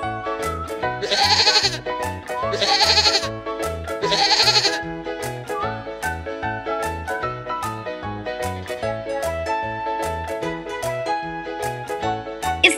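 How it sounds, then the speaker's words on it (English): A sheep bleats three times in a row, wavering and nasal, over a looping light background tune that continues after the calls stop. "It's the sound of sheep."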